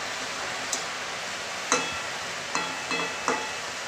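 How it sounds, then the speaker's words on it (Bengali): A pan of bottle gourd curry sizzles steadily while a spoon stirs it, making a handful of light scraping knocks spaced irregularly over the soft frying hiss. "তরকারিটা একটু নেড়ে দেবো।"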